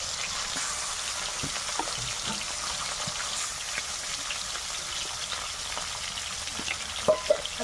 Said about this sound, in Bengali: কড়াই একটু তেল দিয়ে দেবো, মাছগুলো ভেজে নেব।